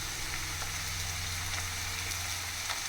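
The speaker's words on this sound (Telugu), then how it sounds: "నేను 1 టేబుల్ స్పూన్ అల్లం వెల్లుల్లి పేస్ట్ వేసుకుంటున్నాను." Ginger garlic paste frying with onions and green chillies in a pan, a steady soft sizzle with faint crackles over a low constant hum, fairly quiet and continuous.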